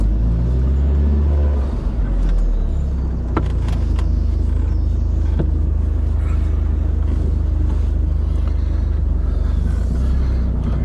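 Interior of a Toyota Yaris cruising steadily with the window up: a constant low engine and road rumble with a steady hiss and a couple of faint clicks, no talking.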